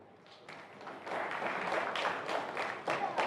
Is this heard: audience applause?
yes